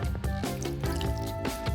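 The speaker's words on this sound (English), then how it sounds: "a splash of whole milk" A splash of whole milk is poured into a bowl of strained potatoes with butter, giving short, soft liquid drips and squishes under a loud, steady musical background, with no voices.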